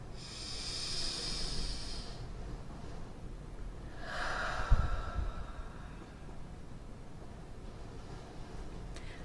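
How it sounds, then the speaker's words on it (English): A slow, deep breath drawn in and then let out during a guided calming exercise, heard as soft airy hissing with a fuller exhale midway, fairly faint against a low room rumble, with no talking. "take a deep breath and exhale it"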